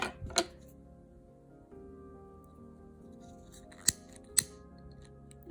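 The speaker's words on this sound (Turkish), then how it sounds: "küçülen ipimin kalan yerini kesip" Scissors snip embroidery thread during needle lace work, giving three crisp, close cuts spaced a few seconds apart against a quiet background.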